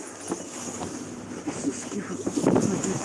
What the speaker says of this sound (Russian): Ветром там дует.